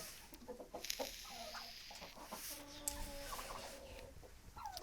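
A slate turkey hen that has just laid an egg clucks and yelps in a series of short, close calls, with rustling and faint bird noises around her.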